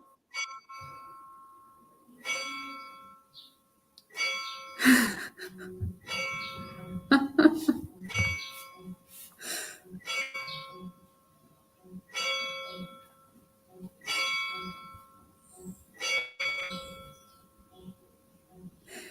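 Church bells in the Alentejo region of Portugal ring out in a long series of clear, resonant strikes at a steady rhythm, each one decaying into the next, with faint voices in the background.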